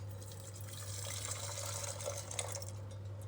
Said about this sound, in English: So to start, we'll just take some hot water.